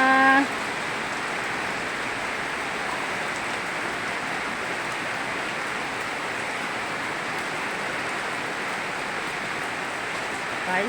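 Heavy rain falls in a constant, unbroken hiss, close and loud, with a brief voice at the very start before the downpour carries on alone.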